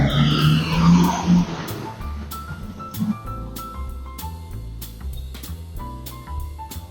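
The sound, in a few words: car engine revving and accelerating in a hit and run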